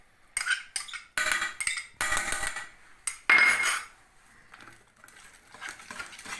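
Butter worked in a pot with a utensil while making jawhara sweets, giving irregular scraping and clinking bursts of metal against the pot, close and fairly loud, separated by short pauses.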